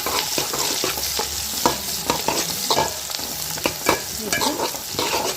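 Onion, garlic and green chilli sautéing in oil for a tamarind curry, a loud close sizzle running throughout, broken by repeated scraping and clattering as a spatula stirs the pan.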